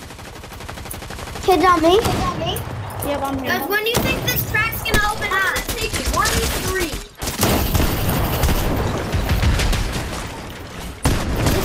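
Rapid bursts of gunfire from a Fortnite match crackle continuously under excited shouting from several players, with loud close shots and sharp impacts throughout.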